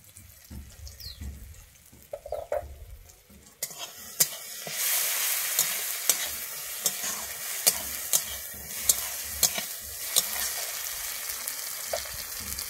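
Tomatoes frying with Kashmiri chili powder for a dahi bhindi gravy: after a few quiet seconds a loud, steady sizzle sets in, punctuated by regular sharp clicks of a spoon stirring against the pan.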